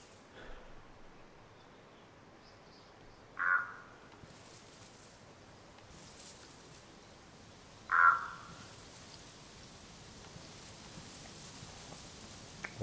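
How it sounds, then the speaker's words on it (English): Two loud crow caws ring out in DayZ, spaced several seconds apart, standing out over a quiet outdoor ambience. "those birds are loud"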